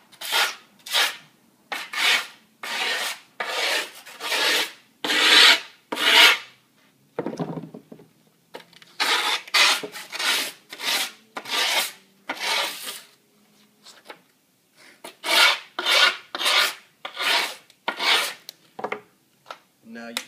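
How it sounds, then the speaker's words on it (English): A metal file scrapes along the edges of a skateboard deck in rhythmic, rasping strokes, each a short loud burst with brief gaps, heard close up for about twenty seconds with a short pause midway and no talking. "I like to get a file and I like to just scrape along the edges"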